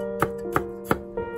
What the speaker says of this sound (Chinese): 再切丝